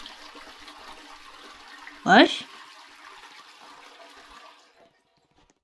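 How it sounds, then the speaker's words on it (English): A toilet flushes in the Roblox game as one short, loud watery swoosh lasting about half a second, rising over quieter background noise, with a voice speaking briefly. "I just flushed the toilet."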